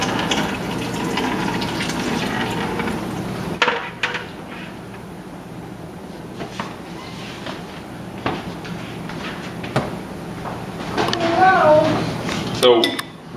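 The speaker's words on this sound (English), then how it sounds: "we are now draining out into the bucket" Water drains from an iSpring six-stage reverse osmosis drinking water system into a bucket, a steady gushing flow with a few knocks and clatters, while people talk over it nearby.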